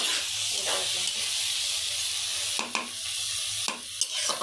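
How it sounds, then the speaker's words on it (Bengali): Cauliflower coated with turmeric and salt frying in a pan gives a steady close sizzle and hiss with occasional stirring scrapes and small bursts, no talking. "হলুদ আর লবণ মাখাই রাখলাম, ভাজবো এখন।"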